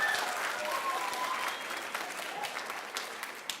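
Audience applause at a spring chorus and orchestra school concert, honoring the choir's accompanist: a dense, steady wash of many hands clapping, fairly close and sustained, gradually thinning slightly toward the end.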